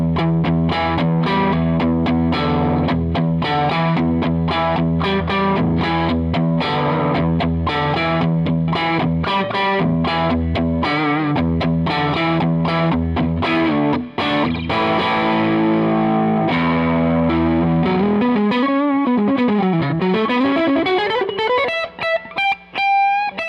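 Fender Kurt Cobain Jag-Stang electric guitar on its neck single-coil pickup alone, played as a continuous driven riff of chords and single notes, ending in bending, ringing notes, loud with no talking.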